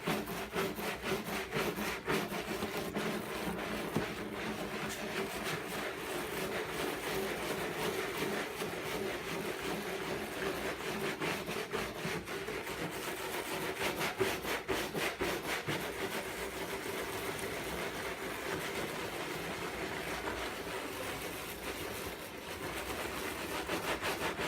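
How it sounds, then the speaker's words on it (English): A brush scrubs old Plasti Dip rubber coating off a sprayed surface in continuous rough rubbing strokes, close and steady throughout with no talking. "take your brush and just scrub everywhere that you've sprayed with this glue gun stuff to kind of break it up"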